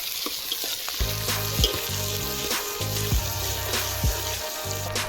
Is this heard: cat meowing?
no